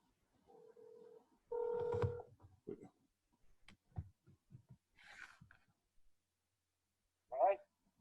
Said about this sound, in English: I'm going to call Director Badoon on my phone